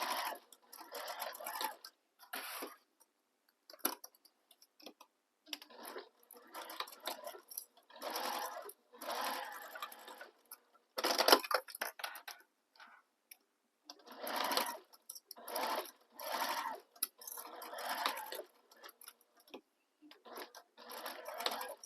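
A domestic sewing machine top stitching down the long edges of a fabric sling bag, its needle whirring in repeated bursts of a second or two with brief pauses between, close and steady.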